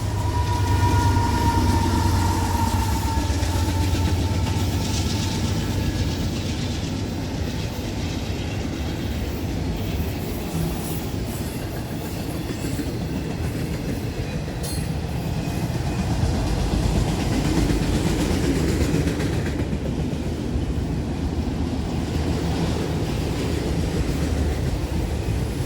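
Empty CSX freight train cars rolling past on rail near Boughtonville and Greenwich, a continuous loud rumble with rattling wheel clatter and faint squeal, steady throughout.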